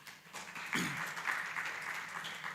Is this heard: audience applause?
yes